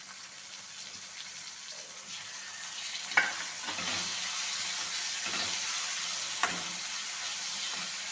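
Tomatoes fry with onions in a pan for a village-style tur dal pendpala, a steady sizzle broken by several sharp scrapes and clacks of a spoon as the mixture is stirred.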